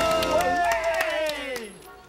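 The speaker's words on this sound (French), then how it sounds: "On s'applaudit" Children at a small games event clap and cheer together in a short burst under a high, sliding voice and some crowd chatter.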